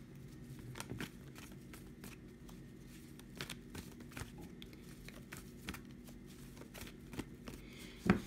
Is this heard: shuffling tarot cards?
yes